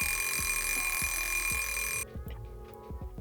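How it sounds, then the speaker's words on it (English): A shrill ringing alarm sounds steadily for about two seconds then stops, leaving a quiet room with a few soft ticks and knocks. "His alarm goes off."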